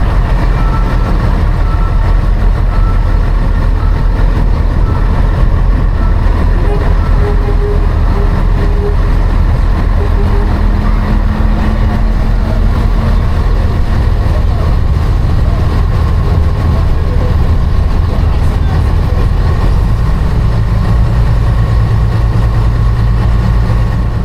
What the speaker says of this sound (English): I just want you to listen to these engines roar